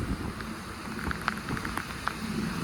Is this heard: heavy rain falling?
yes